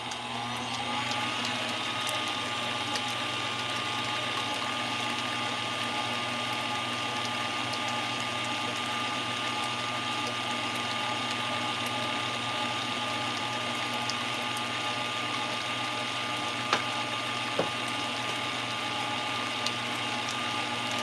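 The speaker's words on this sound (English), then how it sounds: "we mix again, and whisk until thick and smooth" Electric mixer whisking cake batter until thick and smooth, a steady, even motor whir with constant tone that runs unbroken for the whole stretch, with a few faint clicks near the end.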